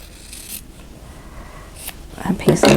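Scissors trim a piece of quilt fabric, giving a few quiet, brief snips and scrapes close by, with louder rustling handling near the end.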